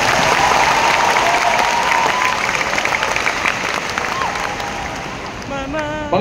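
Applause for the parents during a college commencement ceremony: a crowd claps steadily, the sound easing slightly over time, and a voice comes through near the end.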